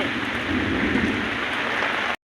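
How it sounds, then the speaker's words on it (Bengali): Steady heavy rain pours down outdoors on a rooftop, a dense continuous hiss that stays loud and even before cutting off abruptly near the end. "বৃষ্টি হচ্ছে, কতদিন পর বৃষ্টি হচ্ছে।"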